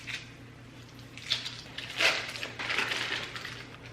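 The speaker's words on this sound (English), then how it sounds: "So I'm gonna take my knife here and just cut this package in half." A knife slices through a foil-wrapped cream cheese package, producing faint crinkling and crunching scrapes in a few soft bursts, close up, with no talking.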